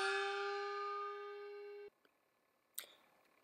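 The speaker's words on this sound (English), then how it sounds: "It's also called a glissando gong. It either glisses up or glisses down." A descending glissando gong: a sustained metallic tone with many overtones that slowly fades and then cuts off abruptly, followed by a couple of faint clicks and a brief clang.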